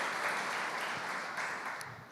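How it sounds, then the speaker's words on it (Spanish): A church congregation applauds during a Spanish-language service, sustained even clapping from many hands filling the room and easing slightly toward the end. "un aplauso para el Señor"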